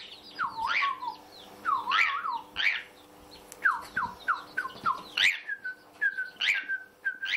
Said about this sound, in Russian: Щеглы, скворцы, свиристели,